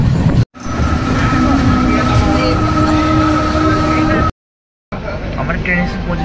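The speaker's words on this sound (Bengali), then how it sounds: "আমার ট্রেন এসে পৌঁছেছে যশপুর কিয়ঞ্জার রোডে" The Dhauli SF Express 12821 pulls into Jashipur Keonjhar Road station with a loud, steady rumble and a sustained tonal whine from the coaches, broken by two brief dropouts.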